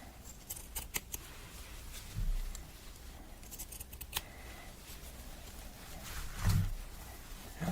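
Scissors snip through old, worn fabric in a few quiet, separate cuts with short crisp clicks and soft rustling between them, close and faint, with no voices.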